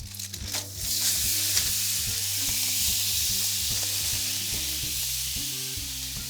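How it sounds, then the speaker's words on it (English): Hot baby back ribs sizzle loudly in a pan, a continuous close crackling hiss with a brief rustle of foil near the start as the ribs are flipped. "I'm gonna take and use this foil to flip these ribs because they're hot"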